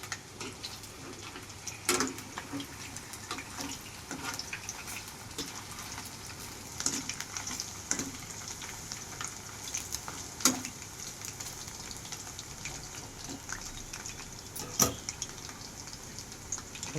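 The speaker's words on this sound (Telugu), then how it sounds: "మీడియం ఫ్లేమ్ మీద ఫ్రై చేసుకోవాలి." Chicken pieces fry on medium flame, Telugu style, in a steady crackling sizzle with scattered sharper pops and ticks throughout, close and moderately loud.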